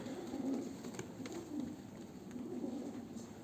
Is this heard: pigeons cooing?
yes